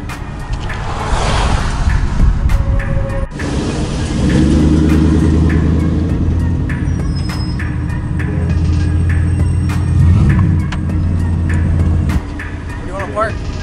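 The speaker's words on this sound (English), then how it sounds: "This truck in front of me is loud as fuck, bro." A loud truck idles and rumbles nearby at a truck meet, a heavy, steady low drone that swells in the middle and holds for several seconds before dropping off, with people talking over it.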